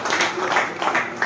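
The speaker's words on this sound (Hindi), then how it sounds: "थोड़ी ताली बजती रहेगी" Steady applause from a crowd clapping at a school ceremony honouring a newly joined block education officer, dense and continuous with no pauses, moderately loud throughout.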